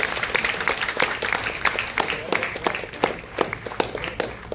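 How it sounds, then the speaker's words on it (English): Scattered hand claps from an audience at a state-level mental health and well-being event, sparse and uneven sharp claps over a low room murmur, continuing steadily without building to a full ovation. "Let's give her a big round of applause."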